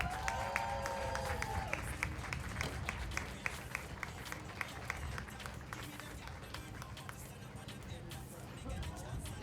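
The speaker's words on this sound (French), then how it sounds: "On les applaudit." An outdoor crowd applauds as graduates arrive at a school ball, with steady scattered clapping throughout and brief speech at the start over the crowd noise.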